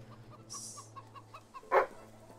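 Chickens cluck in short soft pulses in Fable 3, a rhythmic run of clucks followed by one louder squawk, close by over a low background hum.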